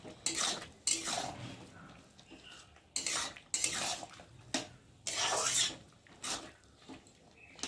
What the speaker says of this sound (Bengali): একটু ভালো করে নেড়ে নেব যাতে চিনিটা গলে যায়